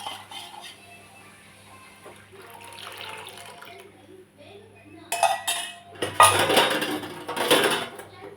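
Halwa batter being stirred in a pan, metal utensils clinking and scraping against the pan in bursts that grow louder and busier toward the end, with quiet background noise.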